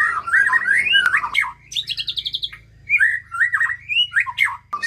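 An oriental magpie-robin sings loud, varied whistled phrases with rapid trills and rising notes, close by, in several bursts with short pauses between.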